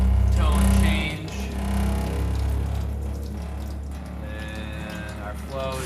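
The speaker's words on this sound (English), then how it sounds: "You can hear the pump tone change," A small water pump in the sink pod of a mobile wood-fired pizza oven hums steadily, with water running beneath. The pump's tone shifts as the flow drops, and a person talks over it.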